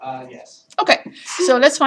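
A single sharp sneeze bursts out in a college math lecture, brief and fairly close, wedged between stretches of a lecturer's talk.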